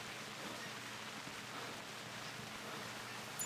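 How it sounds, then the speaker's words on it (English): Steady hiss of rain falling continuously in the video game theHunter Classic, even and moderately quiet, with no voices or other distinct sounds. "And it's raining right now"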